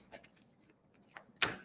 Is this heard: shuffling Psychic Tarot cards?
yes